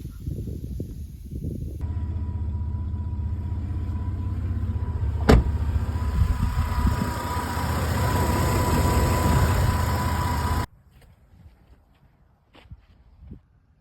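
Ford truck running with a hole knocked in its AC condenser, producing a steady, loud broadband hiss and hum for about nine seconds, with one sharp click midway, before cutting off to near silence with a few faint knocks.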